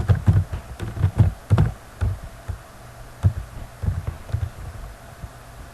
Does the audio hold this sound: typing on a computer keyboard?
yes